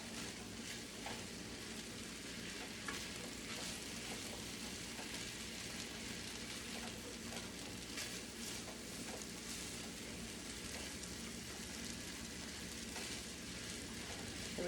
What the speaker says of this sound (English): you could actually just put your rice in there and start frying it